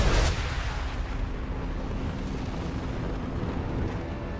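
A large explosion booms in the video game Mass Effect 2, opening with a heavy hit and then rolling into a long, sustained low rumble that fades only slightly.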